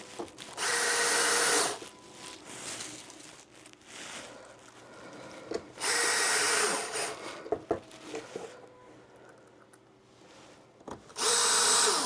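Cordless power drill driving screws into wood while building a hobby paint booth, three separate whirring runs of a few seconds each with quieter handling knocks and clatter between them, close and loud.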